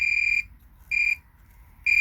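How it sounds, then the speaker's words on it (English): A multimeter on continuity test beeps as its probes touch traces on a circuit board, giving three sharp, high electronic tones of about half a second each with short gaps, close and clear with no talk. "just the slightest bit of a touch will be enough to give us a beep."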